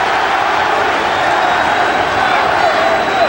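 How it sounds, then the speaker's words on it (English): A boxing arena crowd chanting for Larry Holmes during a 1992 heavyweight bout against Ray Mercer, a loud, continuous roar of massed voices that fills the space without a break. "And the crowd chanting Larry."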